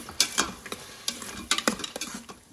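Vegetables are stirred into masala in an Instant Pot for masala pasta, with short scraping strokes and light clinks of a spoon against the pot over a faint sizzle.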